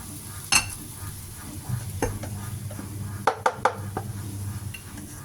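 A utensil stirs rice noodle rolls in a pan for a simple Thai breakfast stir-fry, with a soft sizzle underneath and a few sharp scraping clinks of metal against the pan.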